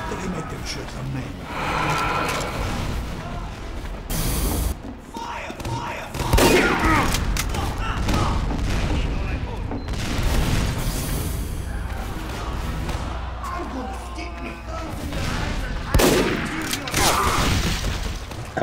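Gunfire in Team Fortress 2 on an Egypt map: rapid bursts of shots and booms in dense volleys throughout, with players talking over the fighting.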